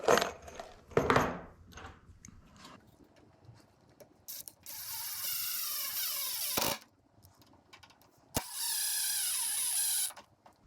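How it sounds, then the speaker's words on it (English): A power drill drives GRK screws into wooden pieces being joined for a stand, with short whirring bursts, ratcheting clicks and two longer loud runs of the motor, close up. "To attach these two pieces together, I'm going to use these GRK screws."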